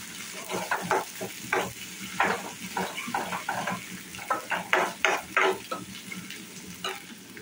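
A moong dal mixture with turmeric fries in a pan while being stirred, giving repeated scraping, sizzling bursts in an uneven rhythm over a steady, close frying hiss.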